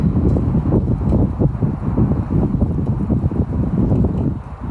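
Strong wind gusting across a garden allotment plot in August, a loud continuous low rumble and buffeting on the microphone with faint rustling, no speech.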